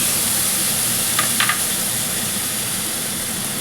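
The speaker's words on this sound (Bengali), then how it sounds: "প্রথমে আমি এটাতে রসুনের রসটা দিয়ে দিলাম, তারপরে পেঁয়াজের রসটা দিয়ে দিলাম" Garlic juice and then onion juice poured into a hot pan while cooking a Bengali bhetki fish curry with potato and cauliflower, giving a steady close sizzle with a couple of faint clinks early on.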